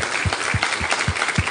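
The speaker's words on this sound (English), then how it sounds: "can we stand to our feet in honor of the ladies of this house and just give a round of applause?" A church congregation applauds the ladies of the house on Mother's Day, a brief, even stretch of clapping with soft rhythmic thumps underneath.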